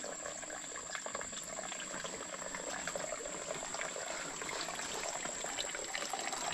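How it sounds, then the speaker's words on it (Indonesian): Mountain spring water runs through a bamboo pipe into a wooden bath tub at a Baduy bathing place, making a steady trickling pour that stays continuous and fairly faint throughout. "Jadi untuk sumber airnya dari atas gunung disalurkan lewat bambu ya."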